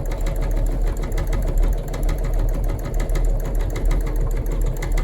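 A Singer EM200 embroidery machine stitches steadily up close, its needle hammering in a fast, even mechanical rhythm with a motor hum beneath, running loud and unbroken throughout.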